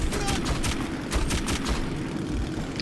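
Rapid bursts of machine-gun fire in the first-person shooter Metro 2033, sharp repeated shots over a steady low engine-like rumble, firing in clusters through the first half and then tapering off.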